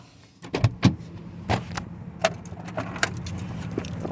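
Keys jangle and clink in a Nissan Versa's door lock as it is unlocked by hand, a few sharp metallic rattles and clicks up close, with a faint hum of the surroundings underneath.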